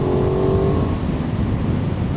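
An Aprilia Tuono 660 motorcycle accelerates with a deep, continuous intake growl, loud and close, its pitch briefly rising at the start before settling into a steady rough roar.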